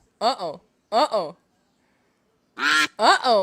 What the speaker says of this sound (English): Let's see what the ducks have to say.